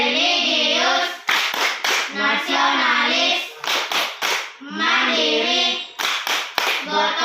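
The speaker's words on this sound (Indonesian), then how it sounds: "Tepuk PPK." Schoolchildren in a classroom chant the rhythmic tepuk PPK clapping chant in unison, their loud, close voices broken by sharp bursts of hand claps between phrases.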